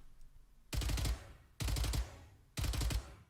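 Reaver 2.0 Spectre submachine gun from Valorant, firing three short, loud automatic bursts of rapid shots separated by brief pauses, with nothing else heard between them.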